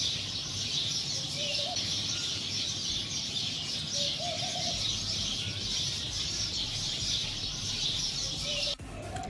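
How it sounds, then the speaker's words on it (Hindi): Many birds chirp and twitter together in a big tree in the early morning, a dense, continuous high chorus with a few clearer calls standing out, steady and fairly close. "इसमें चिड़िया इतनी ज़्यादा आवाज़ कर रही हैं, चीची चीची चीची चीची"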